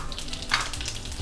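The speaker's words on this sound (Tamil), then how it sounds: "எண்ணெய் காஞ்செடுத்து நம்ம உருளைக்கிழங்கு மசாலுக்கு தாளிக்கலாம்." Mustard seeds, urad dal and cumin hit hot oil for a potato masala tempering, giving a brief, close, steady sizzle with a sharp crackling burst in the middle.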